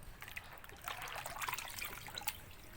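Snails being washed by hand in water, with steady trickling and sloshing splashes that swell in the middle, fairly close and moderately loud, with no talking.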